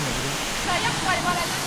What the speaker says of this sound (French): la cascade à Luang-Prabang, elle est belle ou pas?